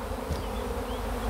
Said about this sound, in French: Un bel essaim, un bel essaim.